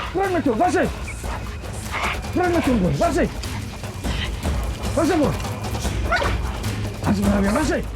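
A tracking dog on a rhino reserve barks and yips in repeated bursts, loud and close, over steady background noise, with a voice partly underneath.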